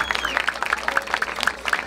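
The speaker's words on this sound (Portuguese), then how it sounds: "Mais palmas, família" Crowd at a rap battle in Barueri applauds, rhythmic group clapping with sharp accented claps, loud and close, with voices in the background.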